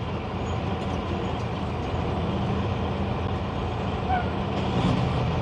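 Heavy trucks and other vehicles crawl through a one-lane construction zone near Hammond, Louisiana, making a low, steady, fairly distant engine rumble with faint, brief hisses over the top.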